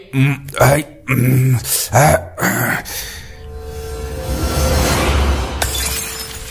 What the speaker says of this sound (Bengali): ওরে, আমার হাত থেকে হাঁড়িটা ফসকে নিচে পড়ে গেল রে